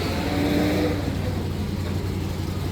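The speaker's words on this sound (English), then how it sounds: "Is that an SS 396? That actually sounds a lot like mine." Chevrolet SS 396 V8 at an outdoor car cruise, a deep mid-frequency engine note rising slightly then settling back, heard alone and fairly loud.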